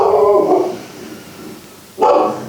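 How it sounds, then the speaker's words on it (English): A house dog gives two short, loud bursts of barking, close by, with a quiet gap between them, reacting to someone walking past the house. "That's my dog."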